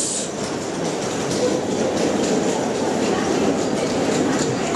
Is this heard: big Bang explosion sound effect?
no